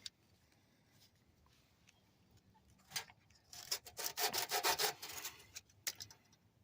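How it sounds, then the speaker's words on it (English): Sandpaper rubbing by hand over old suspension parts of an 86 Nissan 300ZX, quiet scuffing at first, then a burst of brisk, close back-and-forth strokes in the middle before it tapers off. "I ran out of wire wheels for my Dremel tool, so I gotta use sandpaper now"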